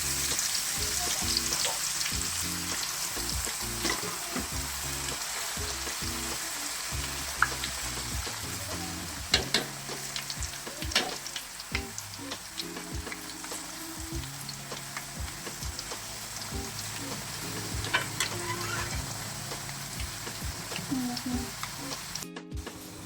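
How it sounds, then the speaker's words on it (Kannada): Potato chips frying in hot oil give off a continuous crackling sizzle with bubbling pops and occasional stirring clinks, close and steady throughout, and a person talks over it at times. "ಚಿಪ್ಸ್ ಈ ಥರ ಗೋಲ್ಡನ್ ಕಲರ್ ಬರೋವರೆಗೂ ನಾವು ಅದನ್ನು ಫ್ರೈ ಮಾಡ್ತಲೇ ಇರಬೇಕು."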